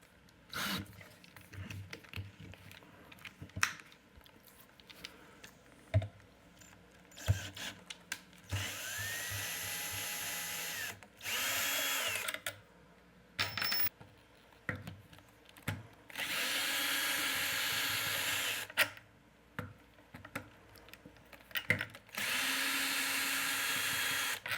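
A power drill whirs in several bursts of a few seconds each while an archtop guitar neck layup is assembled in a workshop, with quiet handling clatter of wood and bolts between the runs.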